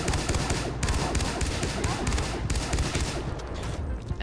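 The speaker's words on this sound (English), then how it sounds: "I shot that one out of midair" Gunshots in the video game Far Cry 3 Blood Dragon: dense, rapid bursts of gunfire crackle nonstop, loud and close, with a dull thump here and there.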